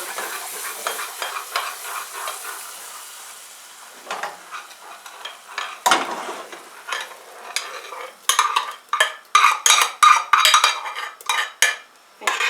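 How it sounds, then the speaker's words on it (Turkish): A spoon stirs bit bit soup in a pot after mint toasted in tomato paste has been added. Close, scraping strokes repeat steadily, growing louder and more rapid toward the end. "Çorbamızı karıştırıyoruz."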